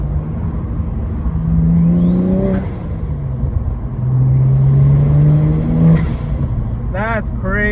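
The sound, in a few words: BMW N54 engine pull with aluminum intake manifold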